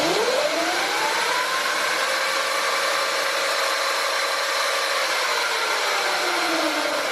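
The electric hub motor of a Sur Ron Light Bee MX spins its wheel, which turns the wrong way, with a whine that rises as it speeds up, holds, then winds back down.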